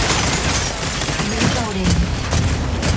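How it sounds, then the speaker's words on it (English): Howitzer fire in the mech combat game Mecha Break: dense, continuous booming barrage with rumbling low end filling the whole stretch, game voice callouts briefly over the din. "That's the howitzer."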